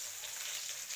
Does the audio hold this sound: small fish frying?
yes